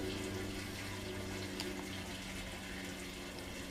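Gasoline, 10 gallons of non-ethanol fuel, pours from 5-gallon cans into a hobby-farm tractor's tank, a steady close gurgling gush of liquid running throughout with no talk.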